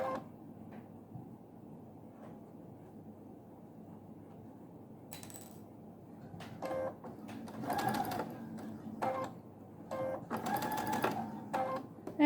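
A sewing machine stitches slippery silky fabric for a cravat, starting with a faint whirr and then running in several short, loud, close bursts with small clicks and pauses between.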